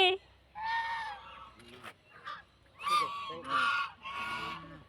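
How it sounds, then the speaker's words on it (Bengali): Geese at a pond by Wasif Manzil in Murshidabad give several loud, nasal honks in bursts, close by, with a little talk between calls. "প্রচুর এখানে রাজহাঁস আছে"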